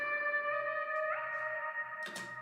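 Harsh sustained synth chord with reverb and stereo panning, notes starting abruptly without a fade-in, shifting pitch partway through and ending in a bright noisy burst, all part of a beat built from scratch.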